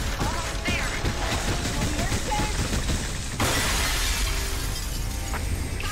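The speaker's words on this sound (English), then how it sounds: "Is that really the most effective manner to break this glass?" Glass breaking in the VR wave shooter Raw Data, with brittle shattering crashes and tinkling debris amid busy game noise, plus a louder smash partway through.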